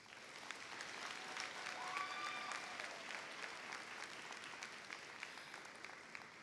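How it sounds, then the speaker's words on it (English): Graduation audience at the Rhodes College & Career Academy 2025 ceremony applauding their class: dense, steady clapping from a large crowd that holds evenly throughout, with a few faint whistle-like tones early on. "I want you all to give yourself a round of applause"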